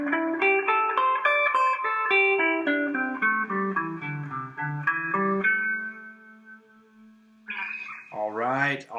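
An electric guitar with effects and reverb runs a moveable minor pentatonic scale shape note by note, moving up and then back down, ending on a held note, before a voice briefly cuts in.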